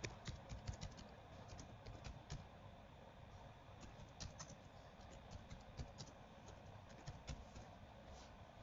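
Fingers type rapidly on a computer keyboard, a steady stream of soft, close key clicks with small bursts of faster taps, heard alone without talk.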